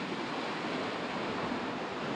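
Ocean waves wash around a sailing boat at night in the open Atlantic near the Puerto Rico Trench, a constant broad rushing hiss mixed with wind, steady and unbroken with no voices.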